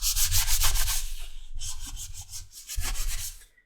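Cloth wiping gold finish off the upper surfaces of a leather holster for a Colt Single Action Army, a series of brisk rubbing strokes close up in two bursts with a short pause between, no voices.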